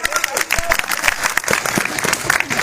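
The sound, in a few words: group applause, clapping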